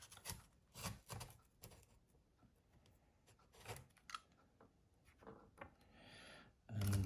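A knife scrapes and slices through tape on a Hotpoint fridge freezer, faint close scratchy strokes in irregular bursts, quiet overall with a louder thump at the end.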